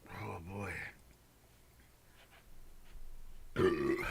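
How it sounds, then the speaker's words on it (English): A man lets out two deep, voiced burps, one at the start and one near the end, loud and close, separated by quiet room sound. "Now here comes the burps."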